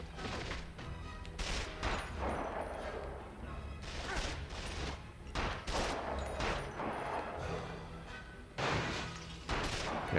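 Bursts of gunfire from the Quantum of Solace PS2 game's final mission at the Eco Hotel. Loud, repeated volleys and crashing impacts recur every couple of seconds over a steady, busy background.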